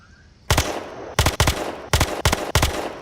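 FAMAS rifle fired in the Roblox game Electric State DarkRP: loud, close bursts of several rapid shots each, separated by short pauses, after a quiet opening.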